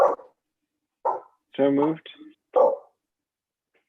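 Dogs bark in a home during an online committee meeting, three short separate barks spaced about a second apart, with a brief spoken phrase between them.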